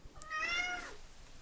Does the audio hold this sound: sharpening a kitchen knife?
no